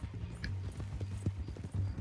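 A horse in Red Dead Redemption 2 clip-clops along at a steady walking rhythm, with close, distinct hoof strikes under a low background hum. A person has been tied up on the horse.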